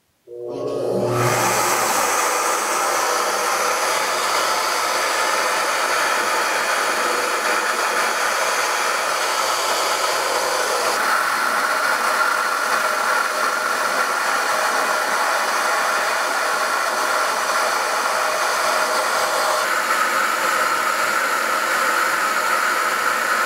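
A cylinder head flow bench switches on after a brief quiet start and runs as a loud, steady airflow roar and hiss, close and unbroken for the rest of the clip with no talking over it.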